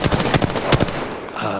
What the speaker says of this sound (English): What is he shooting you with? Wingman.